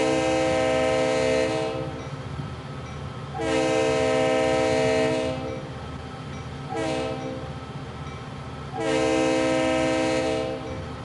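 A CSX RS3L diesel locomotive blows its horn in the classic long, long, short, long crossing pattern, loud and close, with the engine rumbling steadily underneath between blasts.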